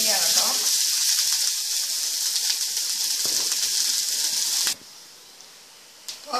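Onions, ginger and green chillies fry in a pan with a loud, steady sizzle that runs unbroken for several seconds, then drops off sharply, leaving a quieter hiss and a couple of faint clinks near the end.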